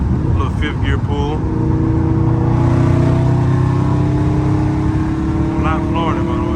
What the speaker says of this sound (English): Got some highway action, man. A little fifth gear pull.